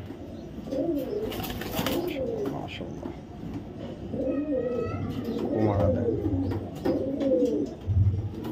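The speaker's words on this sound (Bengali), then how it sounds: "দেখো ভাই রেড চেকার কবুতর, কোয়ালিটি কার এটা" Red checker racing pigeons coo repeatedly at close range in soft, rolling bursts, heard under a man's speech.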